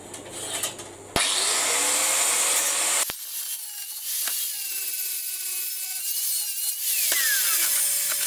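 Metal for a lorry trailer cut with a power tool in a shed, a loud sustained whining grind starting abruptly after a brief quieter start, pausing once and then running steadily with shifting pitch.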